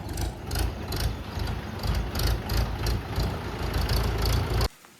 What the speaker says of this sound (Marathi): चालला ट्रॅक्टर